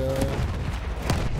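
Bursts of gunfire aimed at a tank in Battlefield 1, a dense rattle of shots cracking under a continuous rumble of battle noise throughout.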